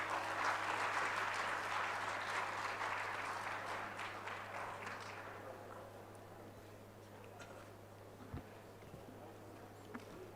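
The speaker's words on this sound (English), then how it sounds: "Audience, can we have a huge round of applause for this beautiful launch?" Audience applause at an international conference inaugural ceremony for a souvenir launch, a dense, loud burst of clapping that gradually thins and fades to scattered claps and room noise.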